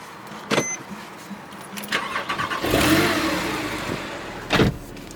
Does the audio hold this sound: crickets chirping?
no